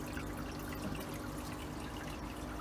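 A tiny handmade shrimp net dips into water, with a steady soft trickle and splashing of water running close by throughout.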